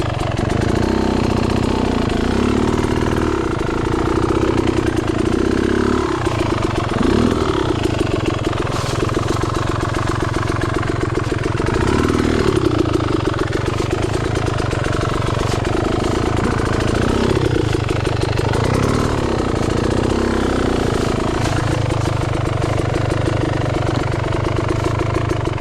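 An X Trainer dirt bike engine on a wet, slick trail, a steady, loud buzzing drone with a constant rattling texture that holds throughout, the revs rising and dipping slightly, with no voices over it.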